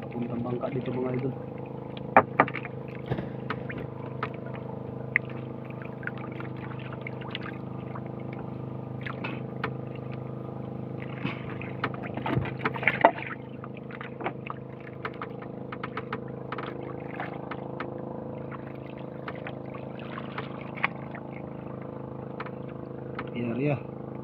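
A motorboat engine drones steadily at close range for a long stretch, with scattered knocks and clatter and people talking over it.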